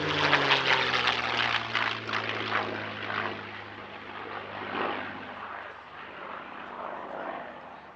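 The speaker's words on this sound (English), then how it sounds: "Here's a Warbird that we've never featured on Airshow dispatches before, and perhaps the prettiest Mustang in Europe, Jersey Jerk." The P-51 Mustang warbird Jersey Jerk flies at the RAF Cosford air show, its piston engine droning and fading from near to farther away, with a voice talking over it.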